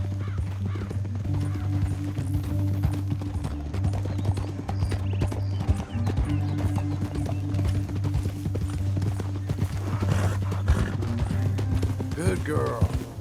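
Horse hooves clip-clop at a steady galloping rhythm in Red Dead Redemption 2, with occasional whinnies, running continuously under loud spoken dialogue and a low droning background.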